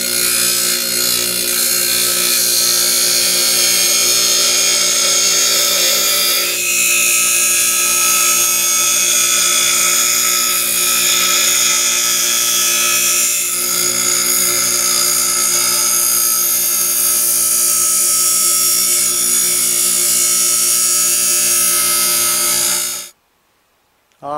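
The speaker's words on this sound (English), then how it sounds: "I'm going to go take this over to the grinder. I think I could do a better job on the grinder." A bench grinder sharpens the steel blade of a pole saw and pruner, a continuous loud high whine with harmonic tones that runs steadily for over twenty seconds before abruptly stopping.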